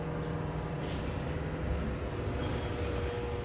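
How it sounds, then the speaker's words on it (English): A steady, loud mechanical drone with a constant tonal hum of elevator hoist motors running continuously without a break. "Those motors sound really epic."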